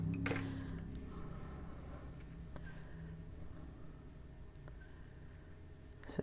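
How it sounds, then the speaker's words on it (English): A colorless blender pencil rubs lightly back and forth on paper, a soft, steady scratching close to the ear in a quiet room. "we'll just take the Colorless Blender and just lightly blend that completely out on the paper"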